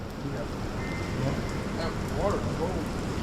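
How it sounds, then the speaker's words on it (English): Steady rain falls and patters on surfaces around a home yard during a dry spell, a dense continuous hiss that holds at an even level throughout, with faint background voices. "Yeah, rain, baby, rain. Need this."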